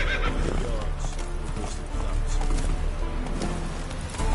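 Roach the horse in The Witcher 3 whinnies and gallops, hooves clip-clopping steadily under game music, with a player talking now and then.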